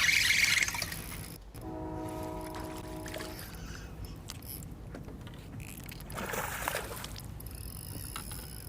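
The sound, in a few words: train air horn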